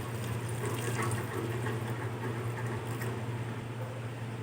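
Water steadily poured into a cooking pot while making meat rice (gosht chawal), a continuous close splashing and filling sound with no speech.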